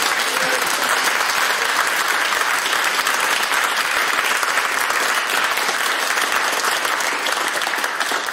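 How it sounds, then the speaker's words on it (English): A studio audience at a quiz programme gives a sustained round of live applause, a loud, even rush of many hands clapping with no pause across the whole stretch. "we offer you a real, live, handmade round of applause"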